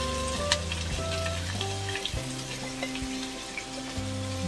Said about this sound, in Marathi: कांदा चांगला थोडा नरम झाला पाहिजे भाजून